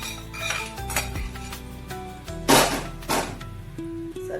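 Metal utensils clinking and scraping against a pot or bowl while tempering is added to a chana dal and coconut chutney, several loud bright clanks with softer knocks between and a faint background tone.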